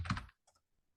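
A brief burst of quick keystrokes on a computer keyboard, followed by a couple of faint, isolated key taps trailing off into quiet.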